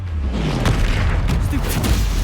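A Confringo spell blast in Hogwarts Legacy bursts out as a dense, rumbling boom with crackling debris, followed by further thudding impacts in continuous loud game combat.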